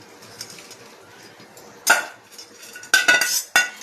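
Metal utensil clinks against a pot as fried chicken pakoras go into boiling chilli chicken sauce, giving a few sharp clanks and stirring scrapes over a quiet background.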